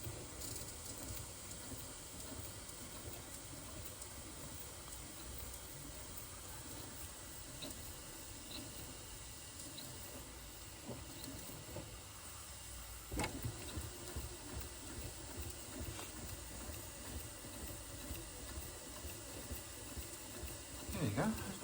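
A restored Bing 141/2 model steam engine running slowly after delicate regulator adjustment, a faint steady hissing chuff throughout with a sharper click partway, a person talking quietly over it.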